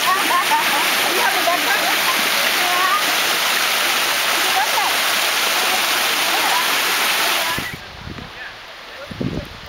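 Water from a small creek waterfall at Wench Creek, California runs in a steady, close splashing rush for most of the stretch, then cuts out abruptly, leaving a few faint knocks and scuffs.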